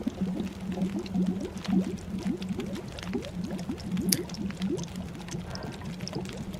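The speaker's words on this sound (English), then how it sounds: "I love how it sounds like it's boiling before it boils." Water heating in a pot in the survival game Buried Echoes gives off a steady bubbling simmer, with rapid low pops and gurgles repeating over a continuous watery hum at moderate, even loudness.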